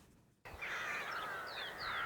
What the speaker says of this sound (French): Au-dessus de ce champ, des centaines de corbeaux.